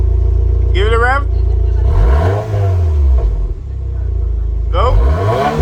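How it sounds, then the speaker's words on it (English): A Subaru WRX VB engine revs up and falls back. It is a loud, near rising-and-falling exhaust note that starts from a rumbling idle, with brief chirping sounds before and after. "Give it a rev."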